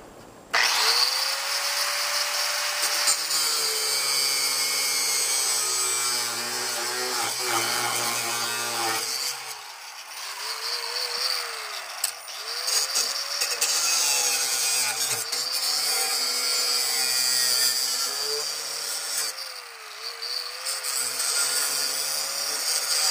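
A DeWalt angle grinder runs steadily and loud for the whole stretch, a high-pitched whine that dips and swells in pitch several times as the load changes, with no talking.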